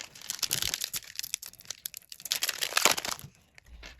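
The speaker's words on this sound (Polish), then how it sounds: "dzisiaj otwieramy boosterek e, z Lorkany Rise of the Flatborn i zobaczymy co z niego wypadnie" A Lorcana Rise of the Floodborn booster pack wrapper is torn open, crackling and crinkling foil in quick irregular bursts close by, with no talking.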